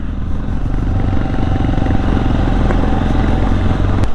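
Benelli TRK 502X adventure motorcycle on an off-road enduro training ground in Austria, its engine running steadily and close by with a continuous low throbbing rumble throughout.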